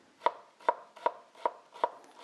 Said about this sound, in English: we're just gonna chop our onions, not super fine, but relatively fine